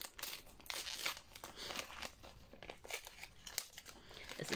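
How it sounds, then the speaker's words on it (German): Thin wrapping paper crinkles and tears as it is opened around a hardcover book with a dust jacket, with close, quiet rustles and crunches in irregular bursts. "wenn wir das Papier so ein bisschen aufmachen"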